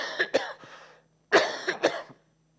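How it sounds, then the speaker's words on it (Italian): A man coughs close to the microphone in two clusters of sharp bursts separated by a short pause, with no talk over them. "ho la tosse"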